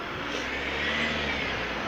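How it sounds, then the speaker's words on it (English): Cars pass along a street in a steady, close rush of engine and tyre noise that swells slightly at the middle and stays continuous, with no talking. "cars are coming, so I'm pausing."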